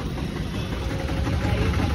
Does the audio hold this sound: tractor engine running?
yes